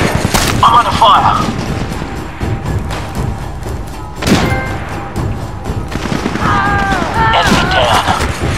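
Gunfire rattles through a SOCOM 4 U.S. Navy SEALs firefight, with loud bursts of shots and heavy thuds repeating across the scene, close and dense, while radio-style voices talk over the combat.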